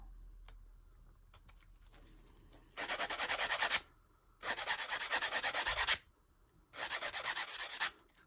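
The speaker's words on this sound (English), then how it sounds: "Doing a nice even sand all around." Three bursts of hand sanding a lightsaber part with sandpaper, rapid back-and-forth rasping strokes about a second each, separated by quiet pauses, close to the microphone.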